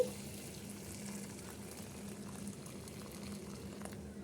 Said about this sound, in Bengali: গরম পানি ঢেলে দিচ্ছি